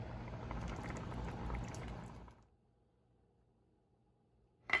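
Long grain rice comes to a boil in a pot for chicken and yellow rice, giving a steady, fairly loud bubbling for a couple of seconds. It then cuts off into near silence, and a short clink sounds at the very end.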